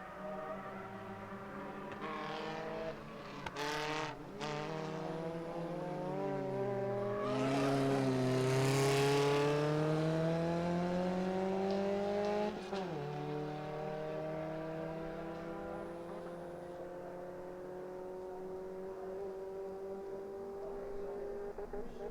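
Race cars lapping a circuit during a JK Tyre motorsport event, their engines rising and falling in long sweeping pitch glides as they pass. The roar swells loudly mid-way, then fades to a steadier distant drone.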